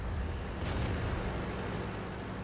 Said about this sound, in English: He's just basically sitting there shooting my tracks.